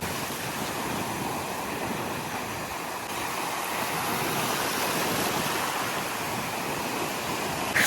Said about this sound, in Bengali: এই দেখো ঢেউ আসছে, ঢেউ আসছে